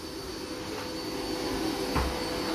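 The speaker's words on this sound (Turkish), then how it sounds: "hatta süpürgeyi açtı bile" A vacuum cleaner runs steadily during house cleaning, a loud continuous motor whine with a brief bump near the end.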